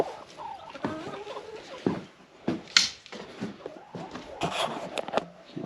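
Dusty chickens and a rooster in a coop cluck and squawk in scattered, overlapping bursts at close range, with a few sharper calls standing out.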